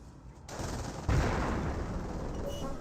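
Gunfire striking a jeep in a Company of Heroes battle: a steady wash of crackling shots and impacts that grows louder after a second, packed close together in a noisy field of combat.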